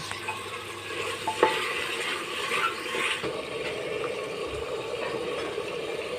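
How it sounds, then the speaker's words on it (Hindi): Kheeri with ginger-garlic paste and salt is fried and stirred in a pan, giving a close, steady frying hiss with a few scraping strokes and a brief clatter, and no speech. "साथ ही में हम इसके डाल देंगे नमक स्वाद के अनुसार डाल देंगे और इसको अच्छे से भून लेंगे"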